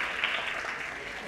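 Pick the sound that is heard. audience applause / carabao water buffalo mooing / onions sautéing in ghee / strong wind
audience applause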